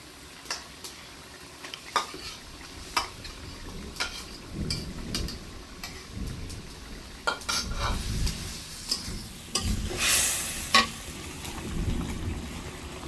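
A spoon stirs shrimp bhuna curry in a pan after fried potatoes go in, with soft scraping and clinking strokes over a faint sizzle, close and moderately quiet.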